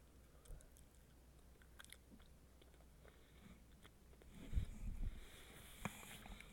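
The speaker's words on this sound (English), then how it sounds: "Chewing gum, by the way." Gum being chewed close to a microphone, soft wet smacking and clicking bites repeating through the stretch, a little louder and denser toward the end, with no talk.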